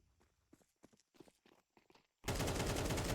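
Rapid pistol gunfire from dual pistols in a competitive Counter-Strike match bursts in loud and dense after a stretch of casual commentator speech, the shots continuing to the end.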